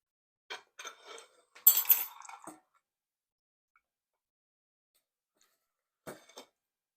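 A plate is handled while lemon pepper wings are served, with sparse clinks and scrapes of dishware, a louder clatter around the middle, then quiet and a final brief knock, close and fairly faint.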